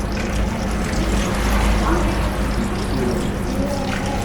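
Hands being washed under running water in a home kitchen while chilli chicken is prepared, a steady close splash and trickle throughout with some background noise.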